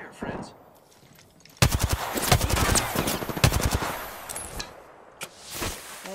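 Rapid bursts of automatic gunfire in the Apex Legends battle royale game: a short lull, then a dense, loud volley of repeated shots lasting a few seconds, ending in scattered single cracks.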